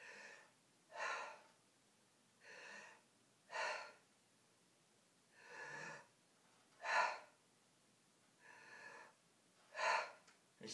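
A person imitates the labored, mechanical breathing of someone in the final stages of death: seven loud, rasping gasps, each about half a second long, spaced roughly a second and a half apart in a steady rhythm, close and alone.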